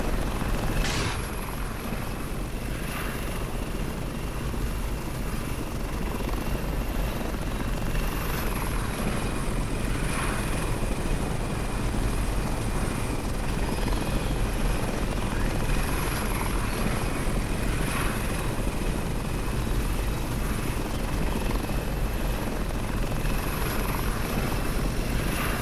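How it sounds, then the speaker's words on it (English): A helicopter flies in the video game Jurassic Dream, its rotor and engine giving a loud, unbroken drone with a faint rhythmic chop all the way through, without any talk. "I can fly helicopter."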